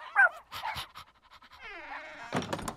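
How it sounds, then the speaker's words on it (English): Puppies in a garden make a few high whimpers and yips, followed by quick breathy panting and a snuffling burst near the end, all close and fairly soft. "the garden's full of puppies"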